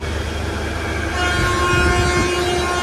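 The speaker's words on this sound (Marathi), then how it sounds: "ट्रेन सुटली बरोबर लगेच सुटली" A train pulls away at night, a loud, steady rumble of rail cars that grows heavier midway, with a sustained horn-like tone running through it.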